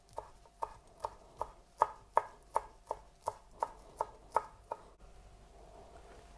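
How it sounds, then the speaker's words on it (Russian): A knife chops parsley on a board in about a dozen crisp, evenly spaced strokes, close and clear, then stops, leaving quiet room tone. "Слегка нарублю зелень петрушки"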